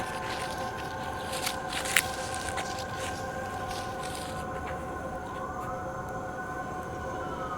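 Steady wailing sirens sound from a distance over continuous outdoor background noise, with no talking.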